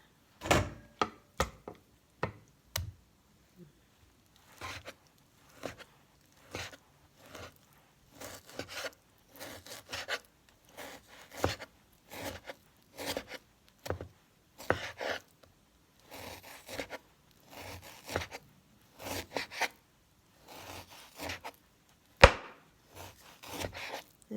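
Knife slicing firm, slightly chilled pork on a cutting board for a Thai marinated pork dish, giving a steady series of sharp, close chopping strokes with short pauses between them and no talking.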